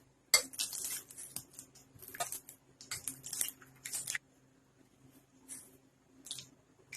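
A spoon scrapes and clinks around a metal pot of chicken biryani ingredients in irregular bursts, then a few softer stirs after a pause.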